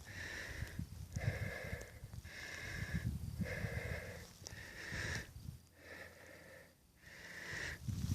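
Heavy, rhythmic breathing of a hiker catching breath on a trail, about seven loud close inhales and exhales in steady succession with brief pauses, no talking.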